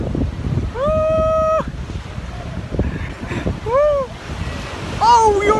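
Cold wind blows and waves break at the sea on the northern coast, a constant, loud rush with low buffeting, and a few high cries rise briefly above it.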